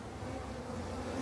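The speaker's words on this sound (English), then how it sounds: "the bees are trying to go into that hole" Honey bees buzz around a hive entrance where guard bees watch for robbers, making a dense, steady, close-up drone that continues unbroken throughout.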